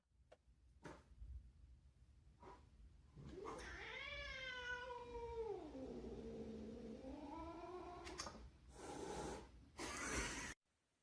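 A cat lets out one long, drawn-out yowl that rises, sags into a low moan and lifts again, loud and close, framed by a few brief clicks and bursts of noise before and after.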